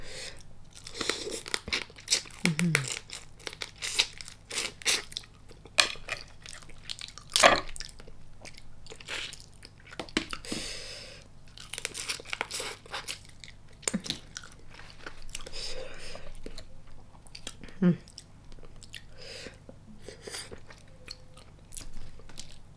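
Close, repeated crunchy chewing and biting of blue crab and fried shallots, irregular bites over a long stretch with occasional soft vocal sounds between.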